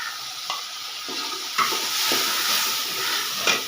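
Steady hissing sizzle of tomato frying in a pan, with occasional stirring scrapes and small bursts of louder crackling.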